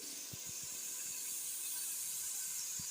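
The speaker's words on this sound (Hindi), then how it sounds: "मैंने यहाँ 1 गिलास पानी का डाल दिया।" A glass of water poured into sizzling aloo gosht curry in a pot, a steady hiss of steam throughout with a few soft bubbling pops, nearby and fairly quiet.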